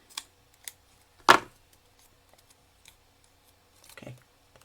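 Scissors trim paper for a handmade card, giving a few quiet, separate snips and one sharper cut in a quiet room, with no talking.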